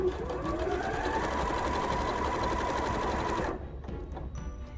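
A sewing machine runs steadily up close, stitching fabric for a jewelry pouch with a fast, even mechanical chatter before stopping, leaving faint handling noises.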